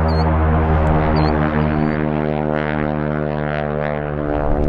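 North American T-6 Harvard propeller trainer airplane running on the ground, its radial engine and propeller giving a loud, steady, throbbing drone with dense harmonics, held close and even throughout.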